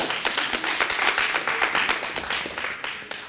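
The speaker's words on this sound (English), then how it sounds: "so we can clap it up for him." Audience clapping for a student athlete, a football player, at a school signing day, a steady burst of many hands close by that continues throughout and fades slightly at the end.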